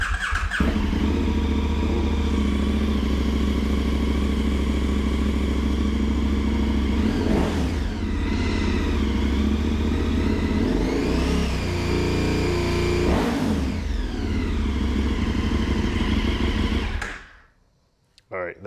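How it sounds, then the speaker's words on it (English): A 2022 KTM 1290 Super Adventure S motorcycle idling with an Arrow Sonora exhaust and the dB killer removed, a loud steady rumble close by broken by three sharp revs before it cuts off near the end. "this is with the DB killer removed and the new exhaust installed"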